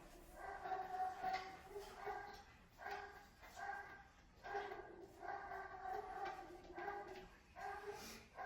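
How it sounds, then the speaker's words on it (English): Dogs bark repeatedly in short bursts throughout, fairly close, with a voice talking now and then underneath. "What are the other dogs barking at?"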